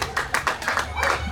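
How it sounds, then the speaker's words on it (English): Hand clapping at a community competition award presentation, a short burst of several quick, fairly close claps with a voice faintly underneath. "give him a round of applause"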